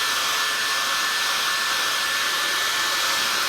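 Heat blower running steadily on body filler spread over the door of a 1950 Plymouth, a loud continuous airy whoosh with an even hum that holds unbroken throughout, with no talking.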